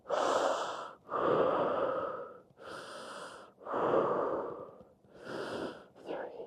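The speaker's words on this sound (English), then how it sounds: "And breathe in here." Slow, deep breaths in and out during a fascial stretching class, about five long audible breaths at a steady rhythm, close and soft, with no talk.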